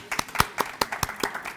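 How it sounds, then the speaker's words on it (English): A small group claps for 22 young women at a leadership institute event, sparse distinct hand claps in a loose steady rhythm, fairly close and moderately quiet. "So let's give them a round of applause."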